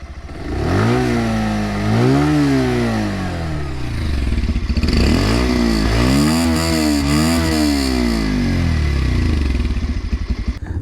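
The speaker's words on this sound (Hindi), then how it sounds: "इसका एग्जॉस्ट नोट सुन लेते हैं" A Bajaj Pulsar 150 Twin Disc BS6 motorcycle engine idles and is revved repeatedly, its exhaust note rising and falling in several loud, close bursts with no talk over it.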